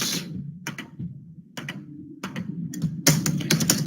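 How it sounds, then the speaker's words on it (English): Typing on a computer keyboard, a few quick bursts of close clicking keystrokes separated by short pauses, the last burst denser and louder. "let me type it here"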